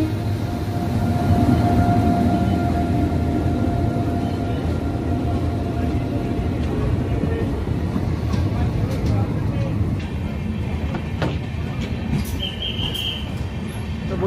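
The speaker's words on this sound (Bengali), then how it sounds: "বন্ধুরা ট্রেন আমাদের বেরিয়ে গেল আজিমগঞ্জ থেকে" Express train hauled by a WP7 locomotive pulling out of Azimganj station, a steady broadband rumble of wheels and carriages heard from inside a general coach, with a faint whine and voices in the background.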